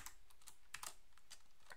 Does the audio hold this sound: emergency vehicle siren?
no